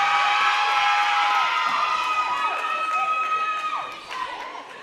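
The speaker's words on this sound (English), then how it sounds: "It's great cheering from some of the home crowd." A home crowd cheers at a women's college basketball game in a gym, a sustained wash of shouts and whoops, with sneaker squeaks cutting through as the noise gradually eases.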